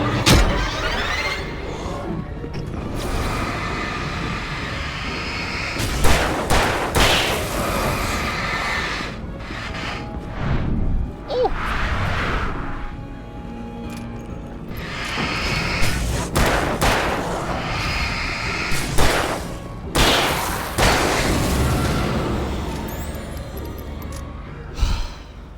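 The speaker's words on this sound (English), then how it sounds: "Some fine shooting, if I do say so myself" Gunfire and explosive bursts in a video game, with repeated loud shots in clusters over a steady backdrop of game noise and effects.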